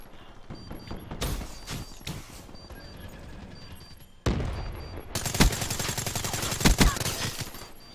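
FFAR rifle fire in a multiplayer shooter match, sharp bursts of rapid gunshots arriving in loud clusters, the heaviest fusillade in the second half, with game sound effects in between.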